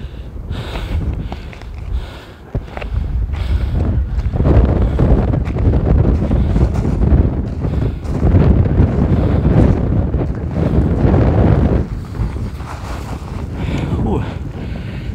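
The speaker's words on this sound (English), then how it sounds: "the wind here is so strong that it's almost" Strong wind on the summit of Litlihrutur volcano in Iceland roars and buffets the microphone in loud, uneven gusts that rise and fall throughout, with no clear speech.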